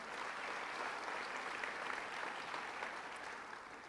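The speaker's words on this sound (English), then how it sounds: "Let's give him a round of applause." Sustained audience applause at a county budget event where a county executive is introduced, a dense, steady wash of many hands clapping at even loudness throughout, with no speech over it.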